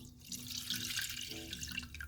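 Orange juice is poured into a curd mixture, a faint, close trickle and splash of liquid lasting a couple of seconds with no talk.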